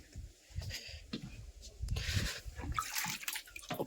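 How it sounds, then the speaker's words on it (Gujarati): Water drawn from a farm storage tank for a young calf splashes and gurgles in uneven bursts, growing fuller and louder in the second half, close by and with no talking. "ટેન્કમાંથી પાણી કાઢી લઈએ"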